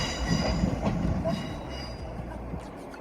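Train rolling through Manchester Piccadilly station, a steady rumbling roar of wheels on track with faint squeals and clatter, close and continuous, fading slightly toward the end.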